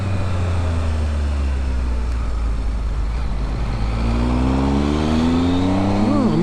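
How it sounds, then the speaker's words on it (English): A Triumph Tiger 1200 motorcycle engine drones loudly and steadily while riding through the Pyrenees, with wind rush over it and a rising, revving tone toward the end. "The engine is lovely and smooth."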